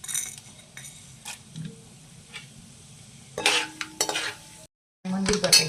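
Chana dal dropped into hot oil with mustard seeds for tempering, a steady close sizzle with stirring spoon scrapes and clinks, one brief silent gap, then renewed frying.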